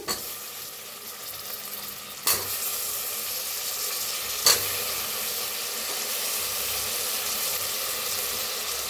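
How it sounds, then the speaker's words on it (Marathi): Potatoes stir-fry with a soya chunk and rice mixture and peanuts, producing a constant close sizzling hiss broken by two sharp spatula clacks, with no one speaking. "जरा मिक्स करूया, छान असं भाजून घेऊया बटाटोला बी।"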